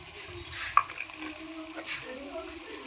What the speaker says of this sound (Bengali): এবার আমি মশলাটাকে ভেজে নিচ্ছি